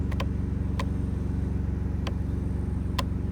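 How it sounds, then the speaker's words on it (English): A car engine idles after an oil change with a low, steady, pulsing rumble close by, and a few brief clicks cut through it. "Letting the car idle for a little bit, something you want to do after an oil change."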